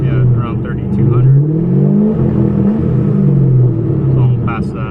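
A 2006 Corvette Z06 V8, clutch out and gas only, sits held near 3,000 rpm on a Lingenfelter 2-step launch limiter: a loud, close, steady revving drone that wavers slightly as the limiter holds it, with someone talking over it.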